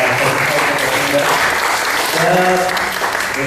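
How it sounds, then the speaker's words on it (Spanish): Loud, sustained applause from an audience at a public session on safeguard experiences, filling the room, with a few voices calling out partway through. "Un aplauso para la"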